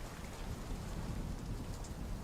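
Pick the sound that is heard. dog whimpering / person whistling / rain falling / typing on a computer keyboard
rain falling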